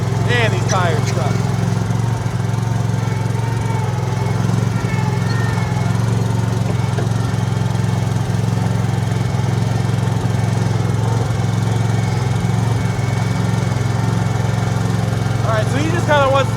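A cheap $500 skid steer's engine drones loudly and steadily throughout as the machine drives while scraping manure, with a constant low rumble and no breaks.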